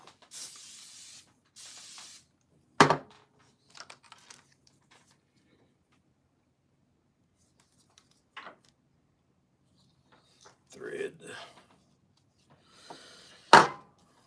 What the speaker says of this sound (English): Now I'm gonna spray this with silicone.